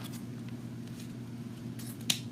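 Florals cut at an angle with scissors: a couple of faint snips early, then one sharp, crisp clip near the end against a low steady hum.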